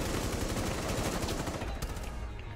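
Rapid gunshots in a video game, a dense burst of repeated cracks like automatic fire, loud and close, easing off toward the end.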